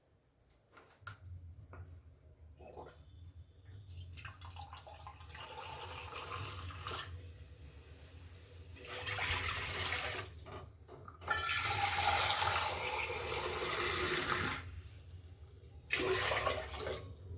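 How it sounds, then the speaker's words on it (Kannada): Water poured into a cooking pot in a home kitchen, a rushing, splashing stream that swells and ebbs in several bursts, close by. "ನೀರು ಹಾಕೊಳ್ಳುವ"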